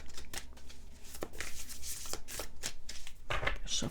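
A deck of tarot-style crystal cards is shuffled by hand in a steady, papery riffle and slide, close and fairly quiet, with no talking.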